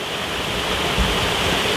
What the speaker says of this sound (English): the water would flow